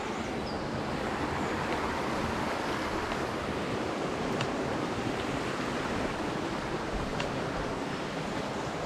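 Steady, continuous rush of a stream flowing over rocks in the early morning, close and even with no breaks.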